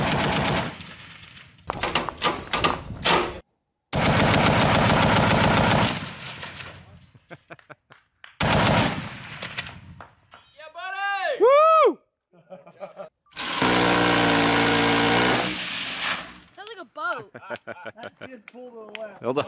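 .50 caliber machine gun fires 100 rounds in several long, loud sustained bursts separated by pauses, with people talking between the strings of fire.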